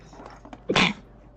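A single short, sharp sneeze bursts out near the mic, a quick explosive puff lasting under half a second, with quiet room tone before and after and no talking over it.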